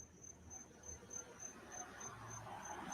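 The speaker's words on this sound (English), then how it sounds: "the crickets are getting too loud" Crickets chirp steadily outdoors in a continuous high, pulsing trill, fairly faint against a low background rumble, with no one speaking.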